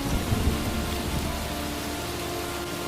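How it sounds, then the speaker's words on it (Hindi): A strong cartoon storm of wind and rain makes a dense, steady roar that fills the whole stretch, with a faint low rumble at the start and no voices. "वापस लौटते टाइम रास्ते में तेज आंधी चलने लगी।"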